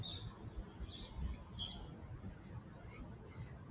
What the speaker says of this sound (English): A noisy bird here.